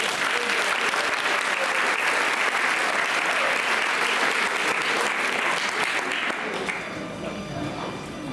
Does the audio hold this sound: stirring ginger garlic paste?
no